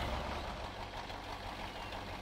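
Truck engine in the off-road driving game Spintires, rumbling steadily at a low idle and fairly faint, with no talking over it.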